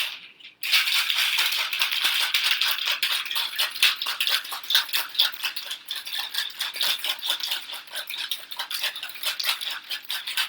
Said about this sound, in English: He suggested that I flip it upside down and then shake.